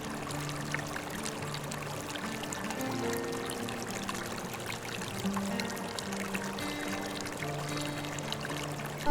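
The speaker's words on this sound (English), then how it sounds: "So, this is the river." River water flows at the US-Mexico border in a desert park, a steady close rushing and gurgling with a faint low hum underneath, continuous throughout.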